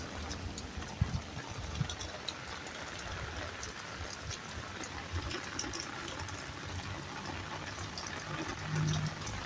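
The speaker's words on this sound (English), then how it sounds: "Look at those water coming from there, rushing all over it." Water rushes steadily over a grave in the cemetery at Spanish Town Cathedral, a continuous close hiss and gurgle with a few faint knocks and no clear speech.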